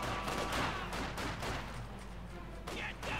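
Dense crackling gunfire and a grenade assault erupt in Company of Heroes 2, a busy continuous battle din with sharp bursts and a commentator talking over it.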